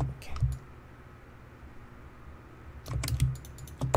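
Computer keyboard keys pressed for a Ctrl+D duplicate shortcut in Maya 3D modeling software: a quick cluster of clicks at the start, then a rapid run of sharp, close keystrokes near the end.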